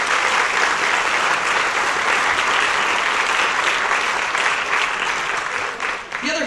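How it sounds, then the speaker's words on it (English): A crowd at the Celebrate Morgan Hill 2012 community event claps steadily for two musicians, dense applause that stays loud throughout and thins slightly near the end. "Please give a round of applause for them."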